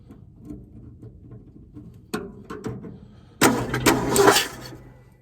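A neglected 1968 Ford F100 with a 240 inline six is cranked and tries to catch, giving faint clicks before a sharp churning burst and then a louder, rougher sputter close by.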